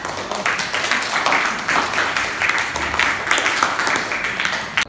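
Audience applause in a vocational school classroom session on 3D hardsurface modeling, dense continuous clapping from a group at moderate loudness, steady for several seconds.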